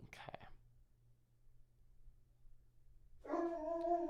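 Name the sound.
dog howling in the room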